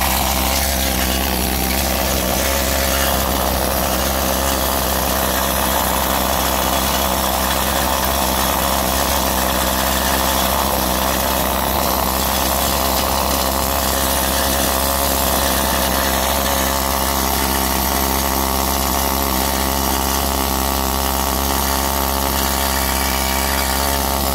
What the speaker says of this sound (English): let me give you a little demonstration of this needling tool that I have